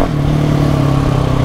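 A motorcycle rides through town, its engine humming at a steady mid pitch with slight throttle wobble. The sound is loud and close, as if from the rider's seat, with no speech over it.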